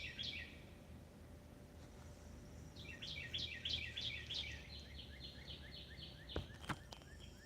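Cardinals chirp in the background around a house, a short call at the start, then a long run of rapid repeated whistled notes, faint and distant over steady low hum.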